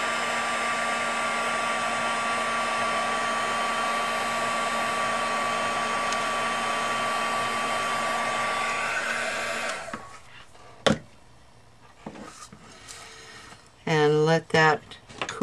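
A heat embossing tool blows hot air over work done with brass stencils, a loud steady fan whine close up that runs about ten seconds before cutting off, followed by a few clunks and a brief spoken voice.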